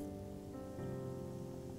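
Urad dal frying in hot oil in a pan for a Gujarati tempering, a steady soft crackling sizzle throughout with no talk.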